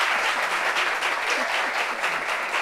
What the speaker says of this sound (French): applaudissements pour ça quand même.